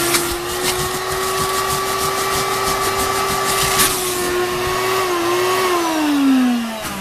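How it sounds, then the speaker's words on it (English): A vacuum cleaner fitted with a concentrator nozzle draws dirty water out of soaked carpet, a loud, steady close-up hiss and whine whose pitch dips near the end as the airflow changes. "turn the vacuum cleaner on and pull up the dirt again"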